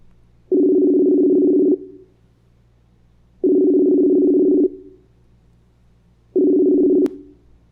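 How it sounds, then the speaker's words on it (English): A telephone ringback tone sounds three times: long, steady buzzing beeps separated by pauses of about two seconds. "So let's give Jaguar a call."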